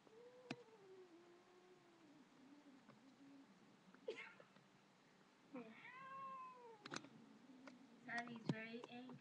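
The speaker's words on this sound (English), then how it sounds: "As you can hear, she's probably growling right now." An angry domestic cat growls low and breaks into drawn-out yowls while being held near a small kitten, close to the microphone with sharp cries toward the end.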